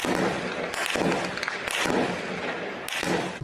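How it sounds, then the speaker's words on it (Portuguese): Bursts of sharp cracking gunfire in quick succession during a police confrontation with drug traffickers, loud and echoing, with a few separate rapid volleys against noisy outdoor background. "os moradores registraram o barulho das rajadas de tiros"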